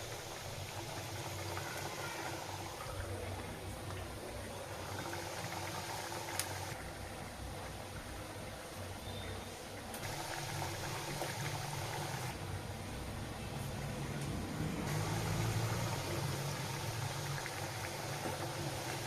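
Thekua fry in hot oil in a wok, making a quiet, steady bubbling hiss that swells slightly toward the end.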